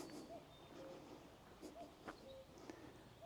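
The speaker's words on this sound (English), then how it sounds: "There's a cuckoo over to my left" A cuckoo calls out in the countryside, its faint, distant notes repeating a couple of times over soft outdoor ambience.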